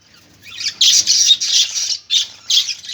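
Pet birds near a clay pot nest give harsh, loud squawks in several bursts with short gaps between them, close and clear against quiet surroundings.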